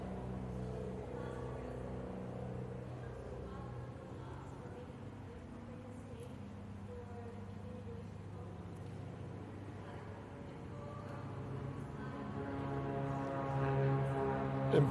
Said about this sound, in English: forgive the planes in the background